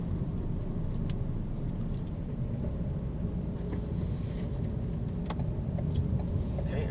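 Car engine pulling away after a shift into second gear, a steady low rumble from inside the cabin that holds even and continuous, with faint road noise and no talking.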